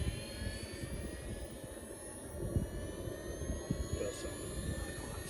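A Losi Promoto RC motorcycle powers up with a steady, jet-like electric whine high over a rough, rumbling low end. The sound holds fairly constant and close throughout.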